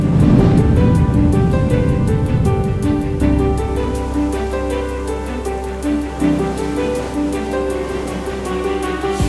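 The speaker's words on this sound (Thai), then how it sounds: "โอ้คลื่นแรง" Strong ocean waves roll and crash at a Thai beach in a loud, continuous roar of surf, with a steady music-like tonal layer running over the whole stretch and no talk.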